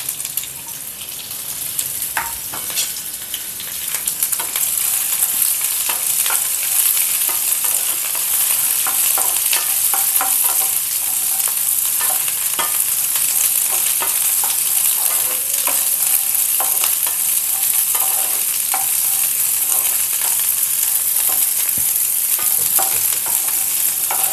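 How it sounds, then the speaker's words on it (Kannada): Bitter gourd frying in hot oil with popping mustard seeds: a steady, loud sizzle with scattered crackles and stirring scrapes, continuous throughout with no talk. "ಅದು ಸಿಡಿಯುವಾಗ ಹಾಗಲಕಾಯಿ ಹಾಕಿ ಫ್ರೈ ಮಾಡ್ಕೊಳ್ಳಿ."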